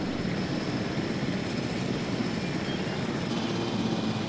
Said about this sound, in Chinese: 我可以驾驶直升机哦